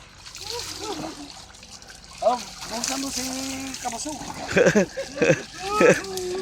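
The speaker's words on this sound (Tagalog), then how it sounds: "dito sila sa Unli Shower." Water splashes and trickles from a shower at an outdoor resort, with irregular bursts of spray under people talking.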